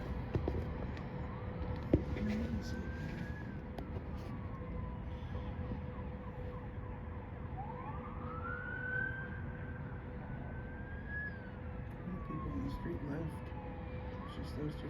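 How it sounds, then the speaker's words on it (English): Sirens from a fire engine, a hook and ladder truck, an ambulance and police cars converge on a city intersection, their wails rising and falling at a distance under steady traffic rumble. "you got main fire, hook and ladder fire truck, a battery fire truck, you got an ambulance, and there comes PD right now."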